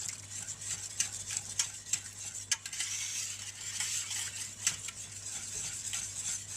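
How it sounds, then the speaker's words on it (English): A whisk stirs milk into a cauliflower cheese sauce in a pan, giving a steady, faint scraping and clinking with soft taps, and no talking. "You can use a wooden spoon for this, but I prefer to use a whisk because it's less lumps."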